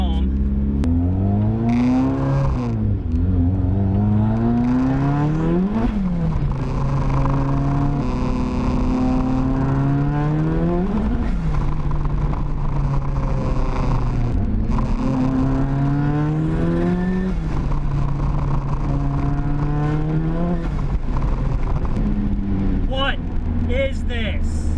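Turbocharged Mazda Miata with VVT pulling hard through the gears on a road drive, engine note rising in repeated sweeps with shifts between, loud and continuous inside the car, with a voice speaking over it at times.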